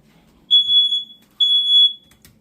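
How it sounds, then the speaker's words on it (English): A smoke-detector-style fire alarm sounds in a kitchen while a meal cooks, giving two long, loud, shrill electronic tones with a short gap between them against a quiet room. "the fire alarm is going off"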